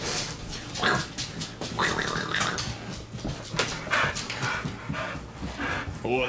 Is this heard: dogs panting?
yes